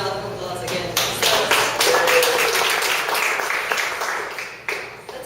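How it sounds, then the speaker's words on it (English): Audience applause for parents at a church talk, many hands clapping in a steady, fairly close crowd wash with individual sharp claps standing out, fading slightly toward the end. "Give our parents a round of applause again."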